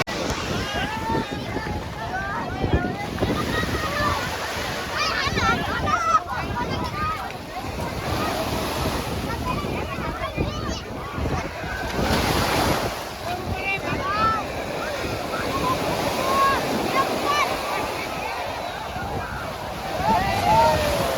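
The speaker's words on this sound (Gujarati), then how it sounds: "આજ છે અમારો પાદરી ગામનો દરિયો" Sea waves wash and surge steadily on a village beach during a Ganesh immersion gathering, mixed with strong wind buffeting the microphone, continuous and close, with faint voices in the background.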